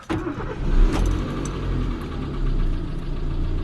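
A Chevrolet Matiz engine, freshly rebuilt, cranks and catches, then settles into a steady, loud idle with a low rumble.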